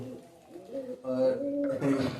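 A pigeon coos in low, repeated throaty calls, close by, with some faint background noise.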